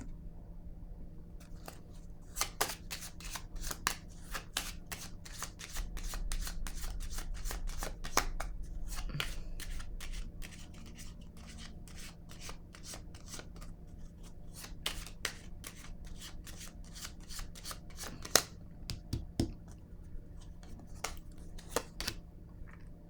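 Tarot-style cards handled and laid down one by one on a table, producing quiet, sharp slaps and brushing shuffles in irregular bursts, close and fairly faint, with no talking.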